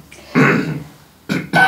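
A man coughs on request during a medical-style exam in a Spanish film, a single harsh, throaty burst followed after a pause by two shorter coughs, close and clear with no talk over them.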